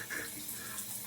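Shower water running steadily, a close, continuous hiss and spatter of spray with no talking.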